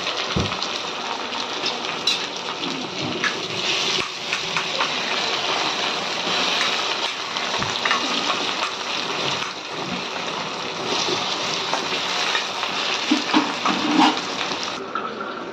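Onion and tomato fry in a pan with a continuous, fairly loud hiss and sizzle that swells and eases a little, with occasional soft knocks and scrapes of stirring, and no talking.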